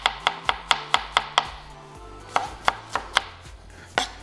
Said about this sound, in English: I'm just gonna cut it like that. You got some nice little dices.